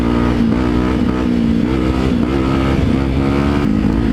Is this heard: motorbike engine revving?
yes